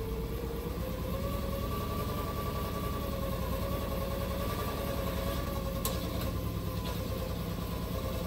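A hoverboard hub motor spins at about 60 RPM, giving a steady mechanical hum with a thin tonal whine and rough, uneven rattling noises throughout, close and continuous.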